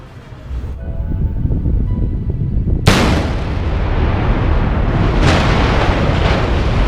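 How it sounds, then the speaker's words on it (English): A bridge gives way with a sudden loud bang that cuts through a steady low rumble, then a heavy, sustained roar of collapsing structure continues with further bursts. "And another bridge goes out with a bang."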